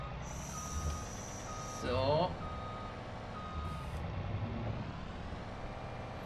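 A Claas Lexion 8900 combine harvester reversing in Farming Simulator 2019 gives off steady high-pitched reversing beeps over a low engine hum, while someone talks briefly.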